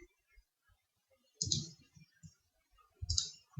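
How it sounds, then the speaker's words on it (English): Keys click on a computer keyboard in sparse, separate taps, with two louder clusters of keystrokes standing out against an otherwise quiet room. "I've been using the keyboard on purpose"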